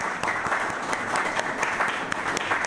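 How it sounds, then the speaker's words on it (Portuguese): Sustained applause from an audience at a restaurant magazine event in Curaçao: a dense, steady patter of many clapping hands, moderately close, with no voices heard above it. "Me quero pedir aplauso para nós,"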